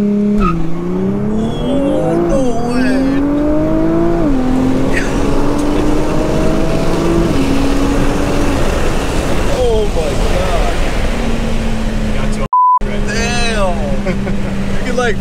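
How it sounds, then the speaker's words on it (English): A Nissan GT-R R35 launching under launch control, heard from inside as a loud engine roar climbing through rapid gear changes while people talk and exclaim over it, with a brief dropout near the end. "Launch control on the GTR."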